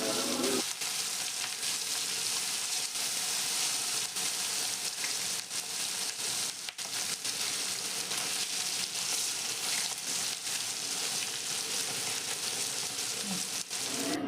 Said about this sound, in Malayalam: വറുത്ത് കോരി എടുക്കുക